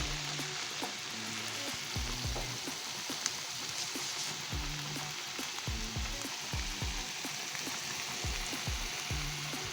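Chopped onion frying in a pan until toasted gives a steady, close sizzle and crackle throughout, with soft tonal sounds faintly underneath.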